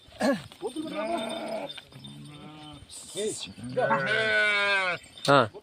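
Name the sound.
sheep bleating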